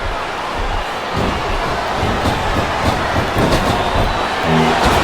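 Arena crowd in the wrestling video game WWE Smackdown vs RAW 2007 on Xbox 360 roars steadily throughout, a dense wash of cheering with thuds from the ring.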